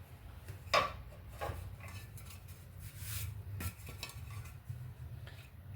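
Grapes and sugar being stirred in a pot, with a spoon scraping and clinking against the metal in irregular strokes, fairly close and quiet, no talk.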